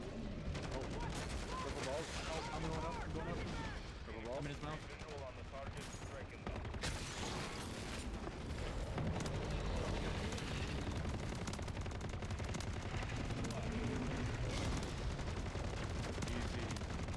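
Airstrike explosions and rapid gunfire in MW3 Zombies roar continuously, with dense overlapping blasts and shots filling the scene while someone talks over the loud game action.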